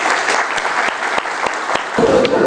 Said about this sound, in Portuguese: pedir uma salva de palmas aí para vocês